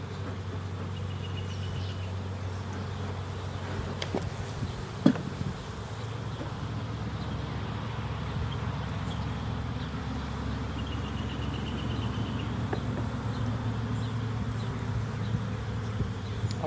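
Honey bees droning steadily in an opened hive during a May inspection, a dense continuous buzz throughout with occasional louder individual bees passing close and a brief knock.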